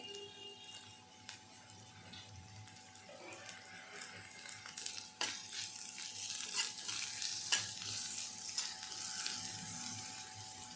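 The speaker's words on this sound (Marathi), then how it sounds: "आता मी कांद्याची पात टाकत आहे" Spring onion greens being stirred and sautéed in a pan for sweet corn soup give a soft, steady sizzle with scraping, building slightly louder toward the end, with no talk.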